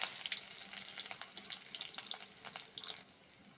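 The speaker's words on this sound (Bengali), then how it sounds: "সেটা পেঁয়াজটা একটু ভেজে নিব" Onion frying in a little hot oil with panch phoron and cardamom, a soft continuous sizzle with faint crackles that drops away near the end.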